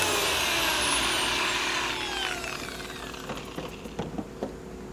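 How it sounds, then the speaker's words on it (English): A power polisher buffs a car headlight lens, whining loudly with a descending pitch as it spins down, followed by a few brief knocks and handling sounds. "Just kind of help me guide the polisher, but you don't really need to put any pressure on this whatsoever."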